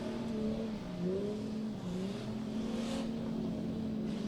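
Street Stock cars race around Meeanee Speedway in Hawkes Bay, their engines roaring steadily and close by, with pitch rising and falling as the cars accelerate and back off through the laps.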